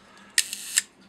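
Camera shutter on a single-lens reflex body firing at a slow one-second exposure: a sharp opening click, a faint mid tick, then a closing click about 0.4 seconds later, close and clear in a quiet room.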